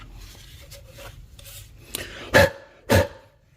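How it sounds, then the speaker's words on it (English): A rag wipes around the oil filter housing on an Audi 3.2 V6 engine, giving soft rubbing strokes followed by two louder, close scrubbing swipes. "you can use the rag like what I'm doing here. Just kind of clean this area out."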